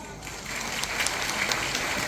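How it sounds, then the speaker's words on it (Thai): Village health volunteers in a Thai community hall give a fairly faint, continuous round of applause, heard from some distance in a reverberant room. "ขอเสียงปรบมือดังๆ อีกสักครั้งหนึงครับ"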